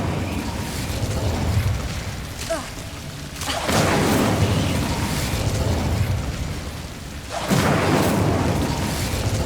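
Incendio fire spell cast in Hogwarts Legacy, two heavy whooshing blasts of flame a few seconds apart, each roaring up loudly over a rumbling game backdrop.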